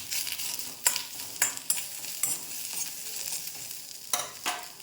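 Onion fries in oil over low gas for a village-style chicken sukka, a quiet hiss punctuated by irregular scraping strokes of a spatula against the pan.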